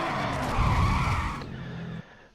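Lamborghini Murcielago race car in Need for Speed Hot Pursuit skids loudly, tires squealing over engine roar for about two seconds before cutting off abruptly.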